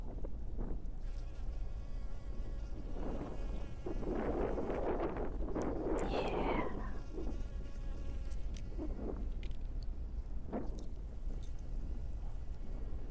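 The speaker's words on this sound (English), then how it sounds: "Nice to see the bees happy." Bees buzz around the microphone outdoors, their drone rising and falling as they fly close, with light wind noise and a brief word spoken.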